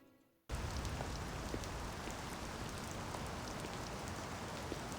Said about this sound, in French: Vous avez vu? Il pleut.